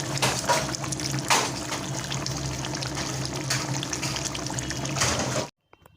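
A pot of crab and potato curry bubbles and simmers nearby, giving a continuous watery churning with small splashes and clatters before cutting off abruptly near the end.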